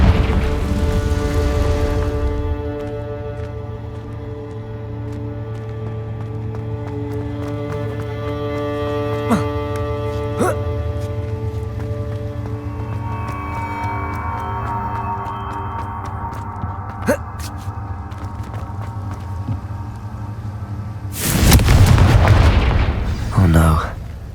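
A Confringo fire spell in the Hogwarts Legacy video game: a loud burst and explosion near the end, after a long stretch of sustained tonal game music and ambience, with a voice calling out the spell.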